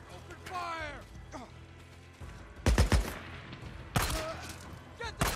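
Bursts of gunfire in the video game Days Gone, with volleys of rapid shots cracking loudly in two main clusters amid other in-game action and shouted voices.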